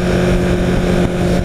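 A Honda CBR 1000 RR Fireblade at Interlagos revs hard under acceleration, a loud continuous engine drone with a brief dip near the end as the quickshifter clicks up a gear.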